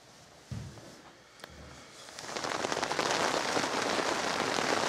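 Heavy rainstorm in Southeast Alaska pounding on a tent in the alpine, starting as scattered drops with a couple of thumps, then swelling into a dense, steady downpour close overhead.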